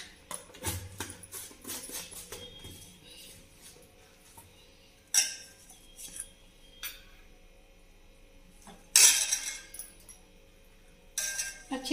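A small spoon clinks against a bowl while custard powder is mixed into cold milk, with a few sharp scattered taps and a louder scraping burst near the end, quiet between strokes.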